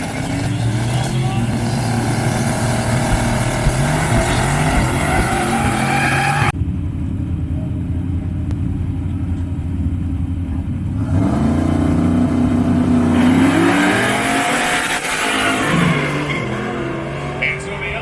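Race cars, a Volvo among them, roar around a racetrack with loud continuous engine drones and shifting revs as they pass, one pitch rising and falling at close range, under commentary voices.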